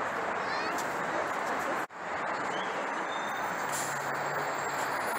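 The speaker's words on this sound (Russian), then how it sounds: "Вот, ретро-трамвайчик подъезжает." A retro tourist tram approaching its terminal stop in Dallas rolls up with a steady low rumble and street noise, a sharp brief dropout partway, then faint squealing tones as it nears, with voices talking over it.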